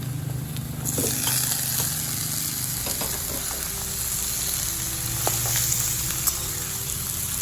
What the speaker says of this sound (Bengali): এবার সবজিগুলো আমি তেলের মধ্যে ভালো করে কষিয়ে নেব।